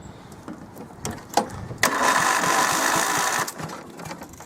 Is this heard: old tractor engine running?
yes